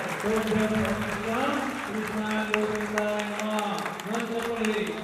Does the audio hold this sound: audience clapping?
yes